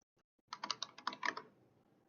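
Quick typing on a computer keyboard while naming a folder, a few isolated taps followed by a short flurry of close, crisp keystrokes that trails off.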